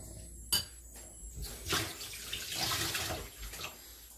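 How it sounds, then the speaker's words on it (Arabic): Water being poured into a dish while preparing baked fish, a soft splashing trickle with a light clink of dishes near the start, close and fairly faint with no talk. "غندير شويه الماء"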